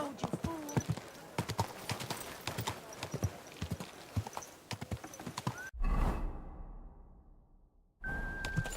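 Horse hooves clip-clop steadily at a walking pace under a voice, followed by a low rumbling whoosh.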